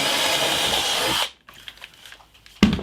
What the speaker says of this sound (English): And I'm just joining the two up with this jigsaw.